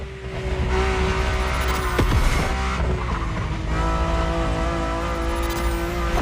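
A sports car engine in The Crew Motorfest, heard from inside, roars steadily at high revs, with harmonic tones shifting as it accelerates and a brief sharp burst midway.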